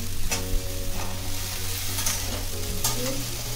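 Pumpkin, carrot, capsicum and chopped bottle gourd sauté in a pan, with a steady sizzle and scraping stir strokes close by, no voices.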